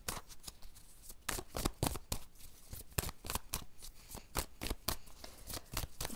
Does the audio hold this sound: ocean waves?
no